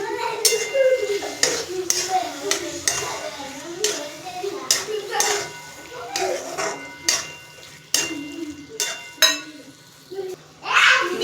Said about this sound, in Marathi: मी याला चांगलं परतून घेतलं